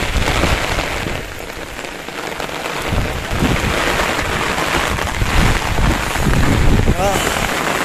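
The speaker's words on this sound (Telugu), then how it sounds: "వాన దంచింగ్" Heavy rain pours down at night, a loud, dense and continuous hiss of drops striking nearby surfaces, steady for the whole stretch with slight swells in intensity.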